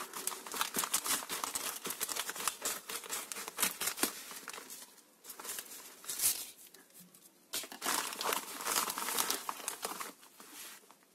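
Scissors snip and crinkle through the plastic packaging of a Xiaomi Mi Band 2 fitness band, close-up rustling, crackling and cutting in irregular bursts with short pauses.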